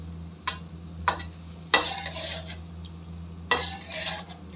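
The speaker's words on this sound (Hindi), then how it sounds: "बहुत अच्छे तरीके से हमने इसको इसके साथ मिक्स कर लेना है" Green chicken karahi being stirred and mixed in a pan, a few distinct scrapes and clanks of a spoon against the metal over a soft background sizzle, close and unaccompanied by speech.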